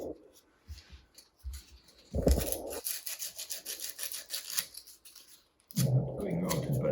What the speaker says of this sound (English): want to try not to ruin it by sanding it down